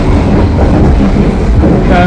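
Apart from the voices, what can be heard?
Tawang Jaya passenger train running on rails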